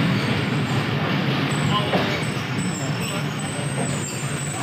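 A train pulls out of Muzaffargarh railway station in Pakistan, giving a continuous broad rumble and rolling noise with faint brake hiss, and a murmur of voices beneath it.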